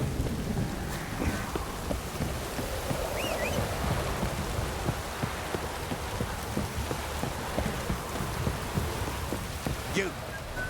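Rain and thunder in The Witcher 3 video game, a steady downpour hiss with low rumbling thunder beneath, continuous throughout with faint incidental game sounds.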